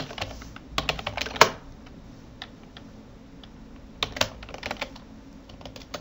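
Typing on a computer keyboard while entering data in an Excel sheet: irregular clusters of crisp, close key clicks, with a louder burst early on and a quiet pause in the middle.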